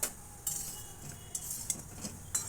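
A spoon stirring sweets in a pan with ghee: sparse scraping and clinking strokes of metal on the pan, several sharp ticks spaced unevenly, close and fairly quiet, with no voices.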